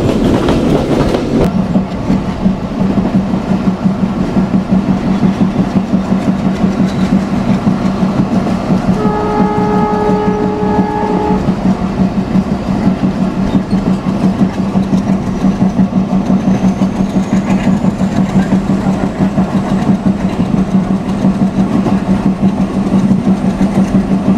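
The Betna Express, a local train from Khulna to Benapole, runs at speed with a loud continuous rumble and rattling wheels, a brief horn sounding partway through.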